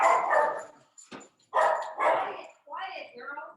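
Several dogs barking and yipping in a home kitchen during cocktail making, a few loud, close bursts mixed with a voice.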